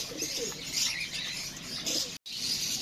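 Birds at a bird market in Souq Al Wakrah, Qatar, including pigeons and doves, keep up a dense, steady chorus of chirps, coos and calls nearby, with a brief break in the middle.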